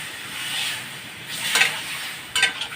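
Boiled ash gourd is stir-fried in a pan with chili powder, salt, sugar and a little water: a steady soft sizzle and hiss, with two brief louder scraping stirs near the end.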